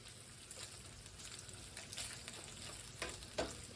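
Bacon frying in a new frying pan, a faint steady sizzle and crackle with a few small pops, low and continuous, no voices.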